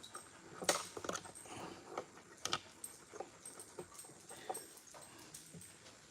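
A dog whimpers and yips faintly in short, uneven bursts alongside light jangling and pattering in a quiet home, soft and somewhat distant throughout.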